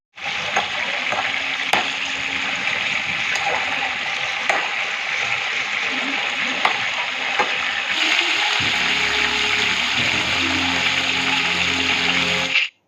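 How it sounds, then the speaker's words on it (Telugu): Stuffed brinjals (gutti vankaya) frying in oil over low heat, a loud continuous crackling sizzle with light spatters, a steady bubbling tone joining partway through. "ఇక్కడ అన్ని వంకాయలు వేసుకొని అయితే సిమ్లో పెట్టుకొని అయితే మంచిగా వేపుకోవాలండి"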